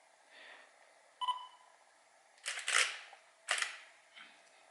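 A camera shutter fires during a camera tutorial: several separate sharp mechanical clicks and bursts, fairly close and moderately loud, with quiet pauses between them and no talking.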